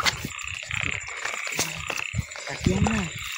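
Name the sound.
frogs croaking in light rain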